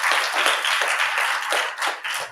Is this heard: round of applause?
yes